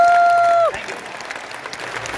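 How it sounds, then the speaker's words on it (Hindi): Audience clapping at a company team program event, a brief electronic tone sounding first, then steady, fairly soft applause from the crowd for the rest of the moment. "तो एक बार अपने लिए खुल करके तालियां बजा लीजिए।"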